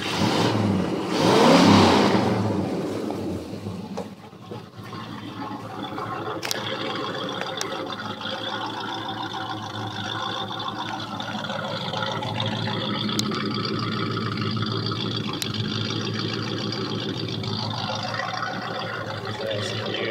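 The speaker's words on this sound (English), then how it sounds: "Custom exhaust on it." A 1965 AMC Ambassador Rambler 990H with a custom exhaust: the engine revs up loudly at the start, then settles into a steady, throaty idle rumble that continues for a long stretch.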